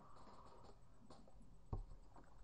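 A pen scratches across paper in short strokes, faint and close, with one brief knock partway through in a quiet room.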